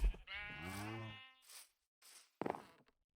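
Sheep bleat in a video game survival world, a long wavering bleat up close followed by a couple of shorter, fainter bleats after a pause.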